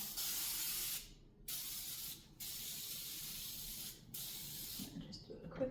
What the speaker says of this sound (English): Just do a quick little spray.